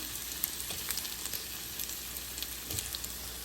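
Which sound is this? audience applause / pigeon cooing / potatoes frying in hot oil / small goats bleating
potatoes frying in hot oil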